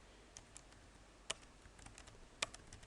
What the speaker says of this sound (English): this is where you type in